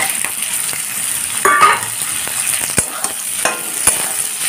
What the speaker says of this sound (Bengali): এখন গ্যাসটাকে হাই ফ্লেমে রেখেই পেঁয়াজগুলোকে ভাজছি